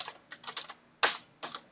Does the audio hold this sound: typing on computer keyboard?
yes